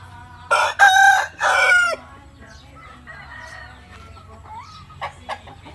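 A young, home-bred rooster on a farm crows loudly up close in two strong bursts, followed by softer clucking and scattered fowl calls.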